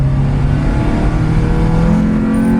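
A tuned car engine revs hard at full throttle, a loud, sustained, close-up roar that continues unbroken with no voices over it.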